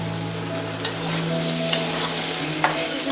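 Okra and potato curry with tomato gravy cooking in a pan, a constant close sizzle and bubbling with occasional light stirring clicks, no voices.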